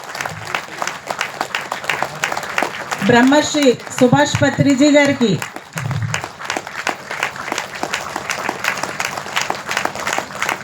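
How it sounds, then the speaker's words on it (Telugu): Audience clapping for the masters on stage at a spiritual gathering, steady crowd applause running throughout, with an announcer's voice speaking over it in the middle. "ఒకసారి స్టేజ్ మీద ఉన్న మాస్టర్స్ అందరికీ గట్టిగా గట్టిగా క్లాప్ చేసుకుందాం."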